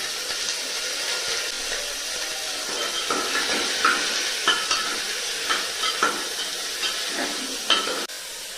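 Chicken fries in a pot with whole spices: cloves, cardamom and cinnamon. A steady close sizzle is broken by repeated stirring scrapes and brief crackles.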